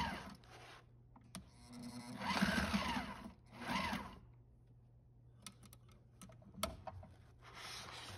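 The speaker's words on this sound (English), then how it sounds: "I then put a zigzag stitch on both of the edges of the two batten pockets" A sewing machine zigzag stitching the edges of sail batten pockets on a jib, running in short quiet bursts with pauses and light handling clicks between them.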